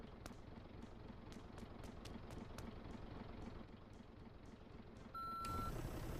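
Reversing beeps from a garbage truck in the Motor Town video game: a steady string of high, evenly spaced beeps over a low engine rumble, which grows louder near the end.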